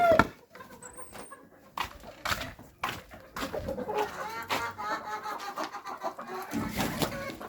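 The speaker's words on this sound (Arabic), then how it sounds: "انا هحط دي بقى للفراخ الهندي هينقراها وينضفها الوقت يعني." Turkeys in a farmyard cluck in soft, scattered bursts and peck at food on the ground, with irregular tapping and shuffling close by.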